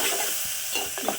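Dried prawns fry in a pan as turmeric is stirred through them, a short burst of soft sizzling with light scraping from the stirring.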